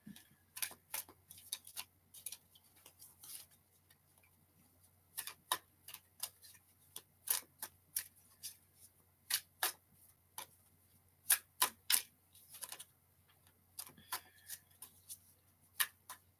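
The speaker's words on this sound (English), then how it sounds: "It is my goal to learn to shuffle this way fast." Tarot cards being shuffled by hand, a quiet series of sharp, crisp card snaps and flicks that come in irregular clusters with short pauses between them, close and isolated with no voices.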